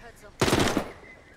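Short burst of rapid gunfire in a video game, a loud cluster of shots lasting under half a second before fading back to low background noise.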